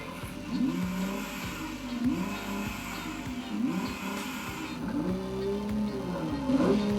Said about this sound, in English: Yanni, can you rev up your Nissan, please?